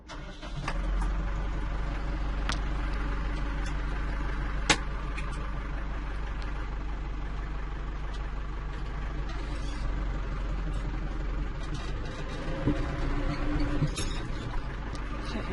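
A tractor engine runs steadily in four-wheel drive on a rain-wet garden slope, a continuous low drone with no talk over it.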